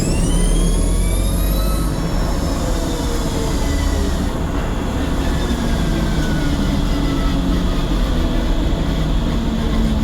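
A Tesla-swapped Datsun 240Z electric car accelerates hard with traction control off, giving a loud, steady rush of road and wind noise and high motor whines that rise early on. No one speaks.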